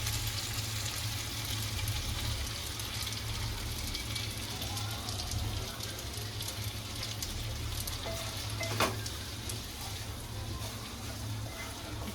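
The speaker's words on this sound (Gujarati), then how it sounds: "ધીમે ધીમે હલાવતા જશું." Pasta cooking in a frying pan, a steady soft sizzle and faint scraping as it is slowly stirred, continuous and close with no talking.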